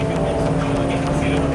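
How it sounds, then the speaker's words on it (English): Naval vessel T-15, a twin-engine waterjet propulsion craft, underway at sea, giving off a loud, steady, unbroken engine and water drone throughout. "this vessel is a twin-engine waterjet propulsion craft which lists speed as its biggest utility"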